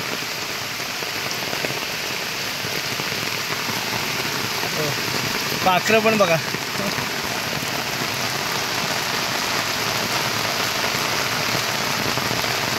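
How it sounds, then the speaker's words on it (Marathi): Heavy rain pours steadily at the foot of a hill, a dense, even hiss throughout, with a brief voice speaking near the middle. "हां ते बघा पाऊस बघा मंडळी"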